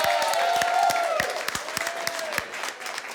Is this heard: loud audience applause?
yes